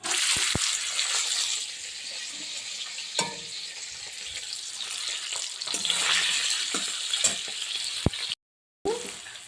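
Bitter gourd with a little sugar frying in a pan while it is gently turned side to side: a continuous close sizzle with soft scraping and a few clinks, and a brief dropout near the end.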